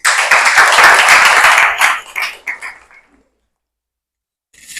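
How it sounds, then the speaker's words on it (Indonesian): An audience claps loudly and densely at a university teaching presentation, holding steady for about two seconds, then thinning into a few scattered claps and stopping, before a brief burst of clapping returns at the very end. "Ya, tepuk tangan."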